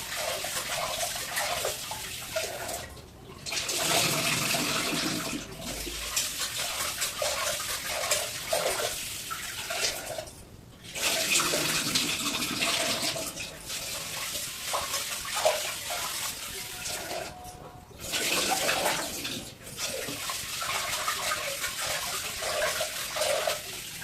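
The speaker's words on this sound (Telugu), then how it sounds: "నీట్గా 4 సార్లు అయితే కడిగేసుకుందాం" Sona Masoori rice is rinsed in water, with running and splashing water in long stretches broken by brief pauses, close by and steady, and no talking.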